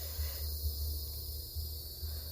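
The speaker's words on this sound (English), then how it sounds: "I know y'all hear these cicadas and things." Cicadas and other insects drone steadily outdoors on a muggy day, a continuous high buzzing chorus running throughout with no talk.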